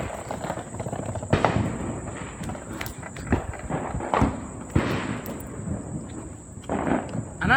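Neighbors' fireworks explode outside at night, sharp cracks and booms scattered irregularly at mid distance, some sounding as distinct single bangs with rumbling tails.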